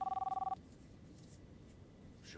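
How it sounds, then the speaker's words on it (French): A mobile phone rings in a quick burst of rapid electronic trills for about half a second, then stops, leaving a quiet room with faint background noise. "Je crois que c'est un téléphone."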